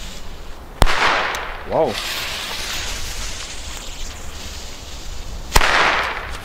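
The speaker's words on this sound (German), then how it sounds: "Nicht gedacht, dass die Böller da drin so gut sind." WECO Atomic Pack firecrackers going off outdoors: two sharp, loud bangs several seconds apart, with a voice exclaiming briefly in between.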